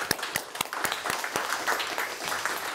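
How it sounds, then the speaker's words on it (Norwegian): Scattered applause from a modest audience at an autumn meeting: separate hand claps stand out at first, then thicken into a soft, steady patter at moderate distance. "Applaus!"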